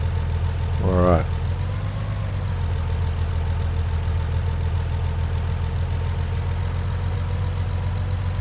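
A tractor engine idles in Farming Simulator 19, a steady low mechanical drone running throughout, with a brief voiced sound near the start and talk beneath it.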